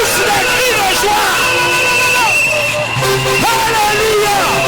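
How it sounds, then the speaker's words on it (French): A church congregation shouts and cries out for joy in a loud, dense crowd roar with rising whoops and held vocal tones, continuing steadily throughout. "Pousse des cris de joie."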